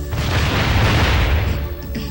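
Explosion in the Crash Twinsanity video game, a loud, sustained booming blast with a rumbling low end that fills the whole stretch and fades only slightly toward the end.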